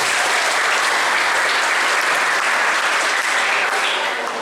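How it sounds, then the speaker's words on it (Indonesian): An audience at a school event in Surabaya gives a loud, steady round of applause, the clapping forming a dense unbroken wash throughout with no other sound standing out. "Tepuk tangan untuk SMS"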